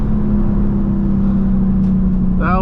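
A Lexus IS F V8 running on E30 fuel, a loud sustained low engine drone with a steady pitch, heard from inside the car.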